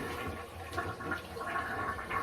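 A toilet flush sound effect gives a continuous rushing, gurgling swirl of water that fills the whole stretch at steady volume, with no talking over it.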